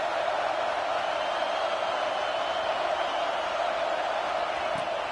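Steady, loud roar of a football stadium crowd during a game, the defense pinning the opponent deep in their own end. The dense wall of noise holds level throughout with no distinct voices standing out.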